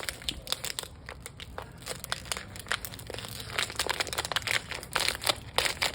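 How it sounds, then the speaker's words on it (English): Duct tape is pulled and wrapped around a knot in rope, producing loud crinkling and sticky tearing rasps in quick bursts, close to the ear. "Maybe a little more tape even, just to get it all the way around."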